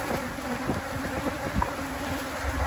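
Swarm of agitated Africanized honey bees during requeening, a dense continuous buzzing close by with individual bees flitting past, no talk.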